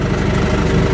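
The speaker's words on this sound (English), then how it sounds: "I'm sitting on the skidder. I've got it kind of idling and running" A logging skidder's engine idles steadily at close range, a continuous low diesel rumble with a regular throb and slight vibration, and no voices.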